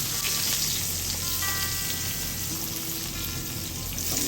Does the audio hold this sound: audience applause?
no